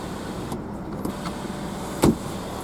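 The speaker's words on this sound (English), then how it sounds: "You can close the actual sunroof, or you can even put it all the way back." On a BMW 335d M Sport Touring diesel, the panoramic sunroof's electric motor whirs faintly inside the cabin, with a few soft clicks and a firmer thunk near the end as the glass settles shut.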